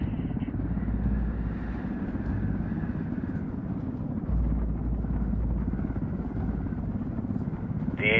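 A helicopter's rotor thrums steadily and loudly throughout, a continuous low chopping drone with no pause.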